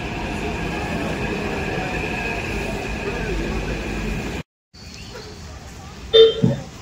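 A metro train ride toward Nampally station: a steady rumble of the moving carriage with a high whine, then a short silent cut before quieter train noise and a few clatters and squeaks.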